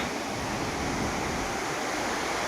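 Water from a waterfall in Mandya or Chamarajanagar crashes against rocks in a constant, dense roar, loud and close with no pauses and no voices.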